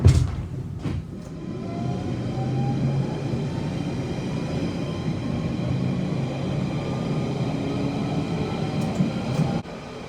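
A London Underground Central Line train rumbles along eastbound at speed, a loud continuous roar with rising electric motor whine and rattling wheels, ending abruptly near the end.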